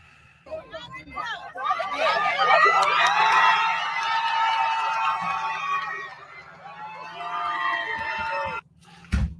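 A protest crowd cheers and whoops in a sustained swell of voices, loud and dense, fading near the end before a sharp cutoff.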